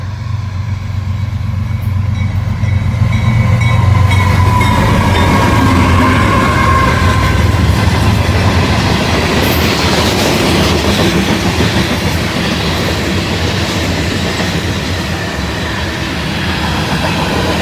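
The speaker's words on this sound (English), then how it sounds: "It's like a grain train." A long, loaded grain freight train rumbles steadily past up close, with a loud continuous roar of wheels clattering on the rails.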